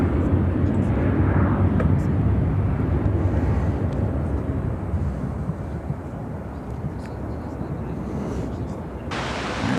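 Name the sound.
American Airlines Boeing 737-800 taking off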